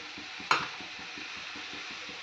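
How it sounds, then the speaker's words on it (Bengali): Water splashes into ginger-garlic masala frying in a pan, a brief bright burst that settles into a steady sizzle with rhythmic stirring scrapes underneath. "আর একটু জল ঢেলে দিলাম।"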